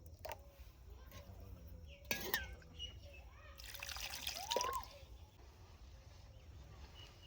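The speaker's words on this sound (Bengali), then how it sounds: "একটু মোটা হয়ে গেছে, একটু জল দিয়ে দেবো।" Water poured into rice flour batter for dudh chitoi pitha gives short trickling and splashing bursts, close by, amid quiet kitchen background noise.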